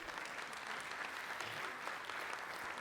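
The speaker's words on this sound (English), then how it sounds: "you can applaud yourselves on that" Keynote audience applauding steadily, a dense even wash of clapping from many hands filling the room, no voices over it.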